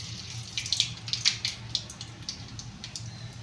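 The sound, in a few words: mustard seeds sizzling in hot oil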